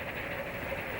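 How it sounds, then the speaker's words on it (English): A Union Pacific Challenger 3985 steam locomotive passes through a Norfolk Southern crossover at St. Paul, a brief steady rumble of rolling train noise with faint rhythmic rail clatter. "As the train passes through the Norfolk Southern crossover at St. Paul"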